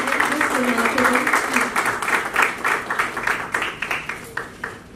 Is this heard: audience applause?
yes